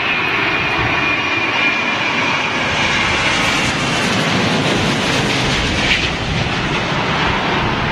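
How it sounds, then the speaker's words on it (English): A British Airways Boeing Dreamliner jet airliner arrives at London Heathrow in stormy wind, its engine roar loud and steady over continuous wind buffeting the microphone, with no talking. "Here we go, Dreamliner, British Airways."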